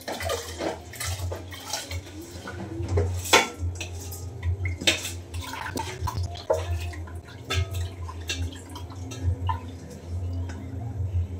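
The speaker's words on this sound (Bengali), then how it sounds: "প্রথমে চাল ধুয়ে ভাতটা বসিয়ে দিই।" Rice being washed by hand in a metal pot, with steady clinks and scrapes of grains and utensil against the metal and light swishing water, close and continuous throughout.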